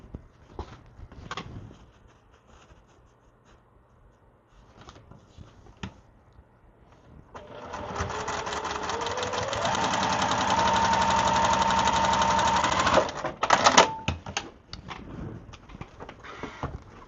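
A sewing machine stitches a quilt block, starting after light handling noises and running as a steady motor whir for about five seconds before stopping abruptly, followed by a few clicks.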